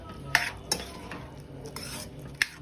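A spoon stirs chickpeas with spice mix in a metal pot, with a few sharp clinks against the sides at irregular intervals over a soft background hum.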